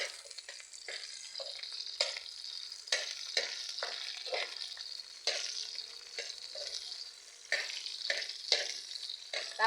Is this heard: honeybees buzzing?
no